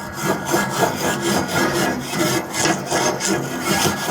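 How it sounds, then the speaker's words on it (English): A metal wire brush scrapes across a heated grill grate in steady back-and-forth strokes, a dense rasping texture that stays close and fairly loud throughout with no talking. "I've got my metal brush here, and I am scraping away"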